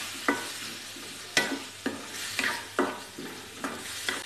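Green chillies and tomatoes sauté in a hot kadai for kadai paneer, with a steady sizzle punctuated by several sharp scraping stirs spaced about half a second to a second apart.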